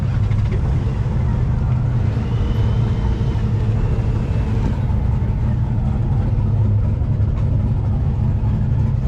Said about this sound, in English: Like a 5-cylinder diesel with twin turbos on it.